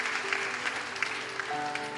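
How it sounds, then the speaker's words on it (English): Church congregation clapping together during a sermon, a fairly quiet, steady patter of many hands with a faint sustained tone underneath. "Give a lot of clap offering."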